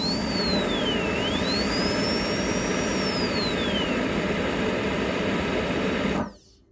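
A dental handpiece spins a homemade needle burr made from a #37 burr, giving a constant high, even whine that runs steadily for several seconds and then cuts off abruptly.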